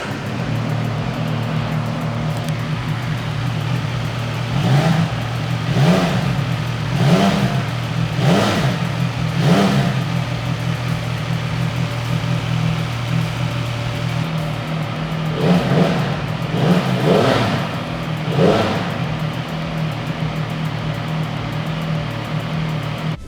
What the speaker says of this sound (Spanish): Este sonido tricilíndrico es algo que va a enamorar a todo mundo y quiero que la escuchen en vivo